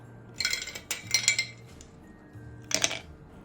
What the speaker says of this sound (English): Add ice cubes to the pitcher as well.